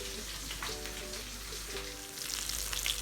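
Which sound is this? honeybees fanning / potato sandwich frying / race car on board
potato sandwich frying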